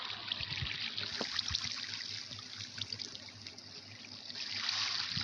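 Water pours in Minecraft survival gameplay, a steady close trickling flow that swells slightly near the end, with no talking.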